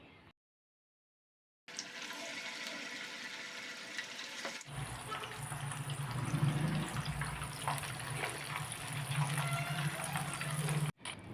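Chicken satay pieces are laid one by one into oil in a pan over a medium flame, producing a continuous soft sizzling hiss after a short silence, with a low bubbling undertone.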